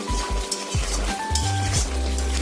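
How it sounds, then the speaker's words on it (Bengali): Chicken being sautéed in a pan with ginger garlic paste, a steady close sizzle with stirring and scraping of a utensil against the pan throughout, with no talking. "একটু আদা রসুন বাটা দিয়ে ভালো করে কষিয়ে নিচ্ছি চিকেনটা"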